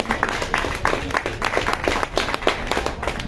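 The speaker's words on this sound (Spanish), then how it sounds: "Démosle un fuerte aplauso también a nuestro compañero" Audience applause at a public forum on past and present state crimes, a dense run of many hands clapping that holds steady and fairly loud throughout, with no voices over it.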